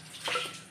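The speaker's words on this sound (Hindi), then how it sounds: "बस ये 1 ग्लास इसमें पानी डाल देंगे और इसे मिक्स कर लेंगे" Water from a glass poured into a cooking pot of mustard greens and meat, a short soft splash and gurgle lasting under a second, fairly faint and close.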